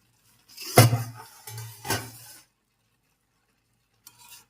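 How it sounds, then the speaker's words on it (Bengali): A lid comes off a pot of vegetable pulao and a spoon stirs it, making a few scraping, clinking strokes in close succession, then quiet with a faint brief scrape at the end. "আমি এখন ঢাকনাটা খুলে একবার নেড়েচেড়ে নিচ্ছি"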